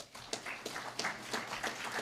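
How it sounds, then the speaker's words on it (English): A graduation audience gives the support crew a round of applause, soft scattered claps heard faintly at a distance over a low room hum. "Let's give that support crew a round of applause"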